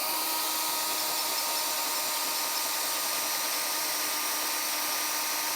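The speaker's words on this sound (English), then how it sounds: "We're going to go ahead, get those drilled out" A power drill bores holes in the metal frame of a 2019 Chevrolet Traverse during a base plate installation, giving a steady, unbroken high whine close by throughout.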